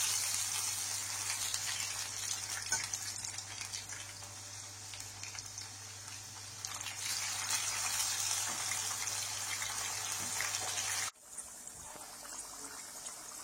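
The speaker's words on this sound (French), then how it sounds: "on va donc passer à la friture donc des bananes et des mettre la cuisson des patates douces" Bananas and sweet potatoes fry in hot oil, a steady broadband sizzle and hiss that runs loud and even for about eleven seconds, then drops abruptly to a quieter, thinner crackle at the end.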